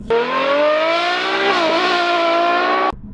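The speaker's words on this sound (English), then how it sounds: "Every time you hear the scream of a V12," A V12 car engine screams at high revs, a loud sustained harmonic wail that holds steady with a slight dip midway before cutting off abruptly, heard alone.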